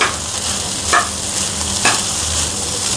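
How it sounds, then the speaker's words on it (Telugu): Ingredients being stirred and mixed in a frying pan, with a steady soft sizzle and two brief scraping strokes of a spatula, close by, with no voices. "ఇవన్నీ వేసుకుని మిక్స్ చేసుకోవాలి."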